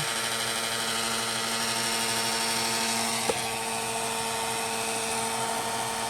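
A heat gun blowing continuously to melt clear embossing powder on a hand-stamped card, a steady close whirring drone with one brief tap partway through.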